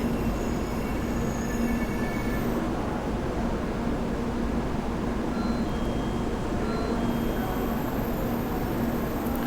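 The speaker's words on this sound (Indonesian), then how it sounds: "Ada suara kereta" Train wheels and brakes in a train anomaly video game, a steady dense rumble with faint high squeal tones running throughout, loud and continuous with no break.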